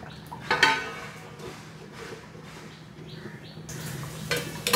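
A lid is set on a pot of crab curry, with a couple of close metallic clinks and light scrapes over a soft sizzle, and a brighter clatter at the end.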